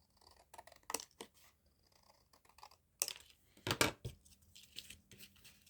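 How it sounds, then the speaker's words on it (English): Scissors snip card folding tabs off flattened product packaging, giving a series of sharp, close cuts and papery crinkles with quiet pauses between, louder bursts near the middle. "So I'm trimming off the tabs because I don't need those folding tabs."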